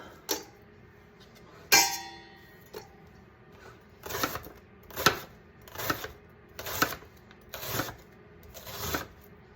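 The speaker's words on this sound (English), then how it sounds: "chop it so that's in these nice little pieces here" Knife chopping a head of cabbage into small pieces on a board for sauerkraut, a series of crisp, evenly spaced thuds at close range, roughly one per second, with no talk.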